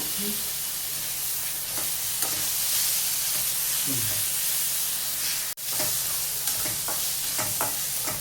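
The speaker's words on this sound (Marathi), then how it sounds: "आता तेलामध्ये थोडं लाल करून घेऊया।" A steady, loud sizzle of spice paste frying in hot oil, broad and hissing, with occasional stirring scrapes and brief clicks, no voices.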